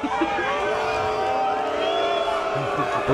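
A wrestling crowd at a Wynwood show reacts with disapproval, a dense murmur of many voices and scattered shouts, while someone talks over it.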